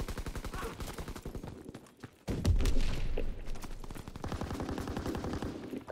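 Rapid gunfire from the World War II shooter game Call of Duty WW2, played in a gridiron football mode, with a dense volley of shots, a short pause, then a louder, sustained burst.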